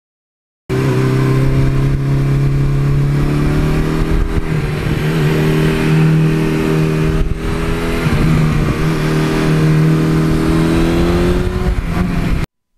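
A 1982 Suzuki GS1100E motorcycle engine drones steadily while riding, a loud, close, even hum with slight shifts in pitch as the throttle changes, and no talking over it.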